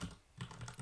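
Quick, light keystrokes on a computer keyboard, a short burst of clicks close up with no talking.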